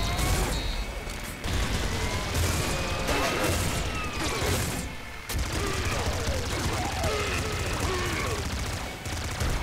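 Laser minigun spraying in the video game Nuclear Throne, a continuous dense stream of rapid electronic shots layered with impacts and chirpy game effects, loud and unbroken apart from a couple of brief gaps.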